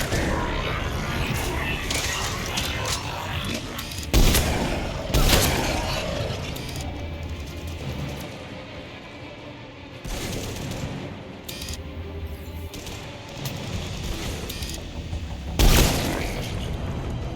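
Weapons firing in the shooter game Mass Effect 3, heavy booming bursts at intervals amid rattling combat noise and explosions, with voices shouting between shots.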